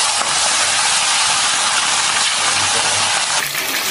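Chicken pieces sizzle in hot oil in a wok, a loud steady hiss and crackle that runs unbroken throughout, close up and with no voices.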